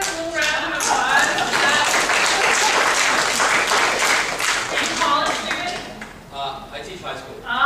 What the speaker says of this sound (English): Can we just have a little round of applause?